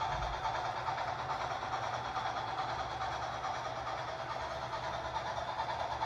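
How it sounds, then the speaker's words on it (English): An HO scale model train running through an S curve on a home layout, a steady, faint rolling rumble with light clatter continuing evenly throughout, no voices. "I like running long trains, stretching out there,"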